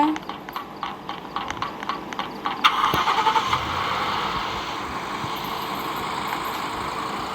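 A vehicle engine starts in the Roblox game Dead Road: light rhythmic tapping gives way to a sudden start, then a steady running engine drone that holds for the rest of the moment, with a voice speaking over it.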